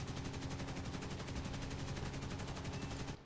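A Vickers K tail-gunner machine gun fires in War Thunder from a Wirraway aircraft, a rapid unbroken stream of evenly spaced shots rattling loudly at close range for about three seconds.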